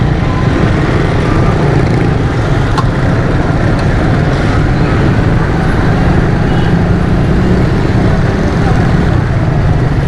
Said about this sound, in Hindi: ट्रैफिक बहुत ज़्यादा जाम है।